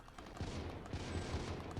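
Sustained bursts of rapid gunfire from the Xbox Live Arcade version of GoldenEye 007, dense and continuous across the whole stretch with no voices over it.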